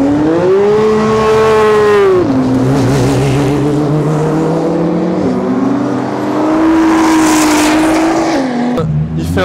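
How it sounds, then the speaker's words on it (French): Cars run laps of a circuit at the Brûleurs de Gomme 2023 gathering, their engines whining loudly and close, with several pitch drops as machines sweep past one after another. "Il y a des voitures très intéressantes qui tournent en ce moment."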